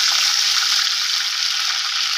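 Giant freshwater prawns fry in hot oil in a pan, a steady, bright crackling sizzle close up that continues evenly without pause.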